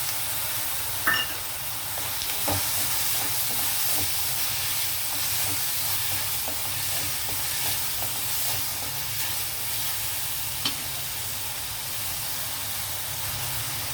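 Green peas tipped into a pan of sizzling eggplant curry give a steady close frying hiss, with a few sharp clicks and scrapes of stirring scattered through.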